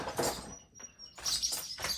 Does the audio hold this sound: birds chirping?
yes